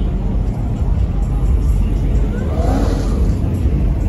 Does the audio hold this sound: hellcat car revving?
yes